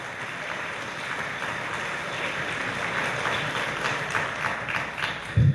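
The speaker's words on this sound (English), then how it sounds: "Give him a round of applause." Steady, even applause from an audience at a State of the City event, honoring Fred Ferguson; a continuous wash of clapping holds at moderate level throughout.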